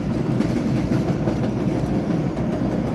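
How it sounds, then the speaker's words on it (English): A steady, loud rumbling roar of an elevated subway train running overhead in the Bronx, heard from a car on the street below, with continuous rattling and no break across the whole span. "That's the subway on top."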